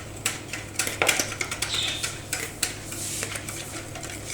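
Maize flour batter being mixed in a bowl, giving a series of light scraping clinks and taps of utensil against the bowl at an irregular rhythm, close and fairly quiet over a steady low hum.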